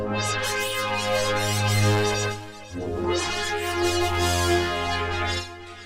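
An Access Virus A synth pad, a twisted cinematic psy patch with chorus and delay, rings as a dense sustained harmonic wash with a brief dip and re-entry midway, loud and with no voices.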